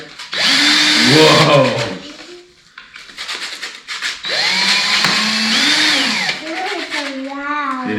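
A power tool, likely a drill, runs in a home woodworking shop during a child's first project, whining loudly in two long bursts with a short pause between, while a voice exclaims over it.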